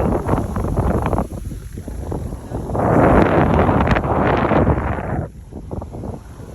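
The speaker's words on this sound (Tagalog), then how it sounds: "pagdating ko ay ganito kalakas ang hangin" Strong wind roars and buffets the microphone, swelling into a loud sustained gust mid-way before easing back to rougher, choppier gusts.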